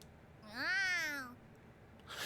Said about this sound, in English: Is that a cat? Is that someone doing a cat sound? Or is that an actual cat?